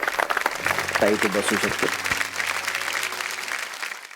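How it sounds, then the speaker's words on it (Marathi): A studio audience on a Marathi TV show bursts into loud, sustained applause, with a voice speaking over the clapping as it gradually tapers off. "एकदा जोरदार टाळ्या झाल्या पाहिजे"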